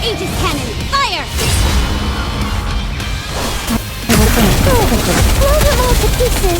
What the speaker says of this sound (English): Full speed ahead! Aegis cannon, fire!